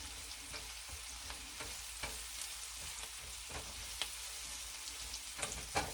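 Vegetables sautéing in a pan for braised lamb shanks give a faint, steady sizzle punctuated by small scattered pops and soft stirring clicks, heard alone at low level.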